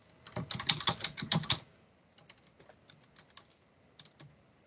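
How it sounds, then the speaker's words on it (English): Rapid typing on a computer keyboard, a dense burst of close key clicks followed by slower, fainter scattered keystrokes, with no talking. "I can type it in for you, Danielle"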